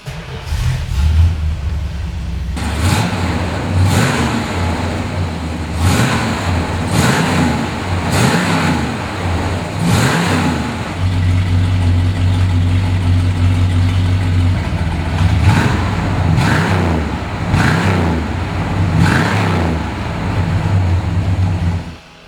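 A 1969 Dodge Super Bee's 440 V8 engine cranks and fires up, then settles into a loud, lumpy idle with periodic revs, heard up close.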